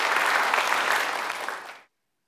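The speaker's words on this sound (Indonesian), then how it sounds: "Beri tepuk tangan bagi Tuhan." Dense crowd applause at a church worship service, steady and fairly loud for under two seconds, then cutting off abruptly to silence.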